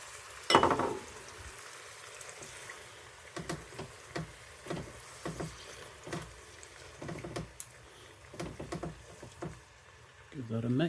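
Stock and bitter are brought to a bubble in a pot for a C.F.R. recipe, giving soft, irregular bubbling and pops that rise and fall, fairly quiet and close, with brief voice sounds near the start and end.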